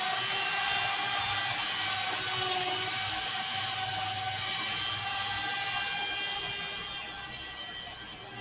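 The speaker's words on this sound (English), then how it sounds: "Prepare for Dremel." A Dremel rotary tool runs continuously at high speed, a loud steady whine with strong tonal harmonics that eases slightly toward the end, with no talk.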